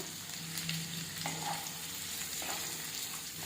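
Onions sizzle steadily in a hot pan while cooking crab masala fry, a close, continuous frying hiss with a few faint clinks of stirring, with no talking.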